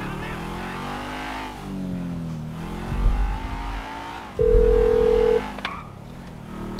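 A phone in GTA 5 dials out on speakerphone: a steady held tone rings out for about a second, over a car engine humming and shifting and game music and chatter underneath.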